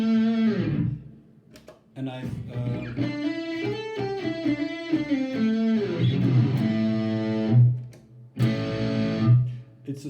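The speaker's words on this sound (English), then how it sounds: "So here I have a distortion. It's a basic patch that I've modified." A distorted electric guitar patch played through a Boss GT-1000 effects unit, with sustained, saturated chords and notes ringing out over about ten seconds, briefly broken by a short spoken phrase.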